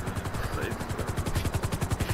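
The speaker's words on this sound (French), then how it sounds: "Elle arrive en hélico." A helicopter in GTA V roleplay approaches with a loud, rapid rhythmic rotor thump, the steady chop pulsing close and strong for the whole stretch, with a voice speaking briefly over it.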